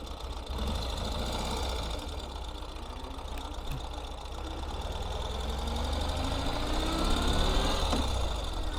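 A 2025 Ural Gear Up sidecar motorcycle engine running in first gear, a steady, close, knocking mechanical drone with a low throb and a faint rise toward the end.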